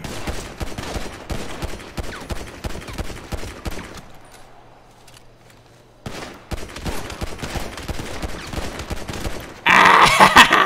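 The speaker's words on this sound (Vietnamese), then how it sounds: "nghe tiếng súng rồi, đúng bên kia lận" Gunfire in the GTA 5 video game rattles in rapid bursts and dense volleys, fairly loud, drops to near silence for a couple of seconds, then resumes and ends in a sudden louder blast.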